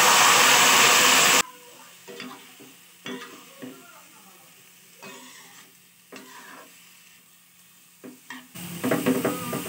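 Pumpkin fries with cumin and coriander powder in a pan, a close sizzle broken by scraping stirs and clatter of a utensil, louder frying bursts at the start and end, with a voice talking faintly.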